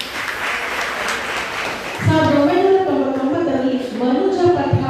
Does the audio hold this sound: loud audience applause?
yes